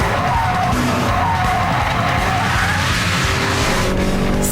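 A UK-built Honda Civic Type R driven hard around a race track, its engine roaring loudly and continuously with tire squeal and skidding layered over the drive, no talk heard.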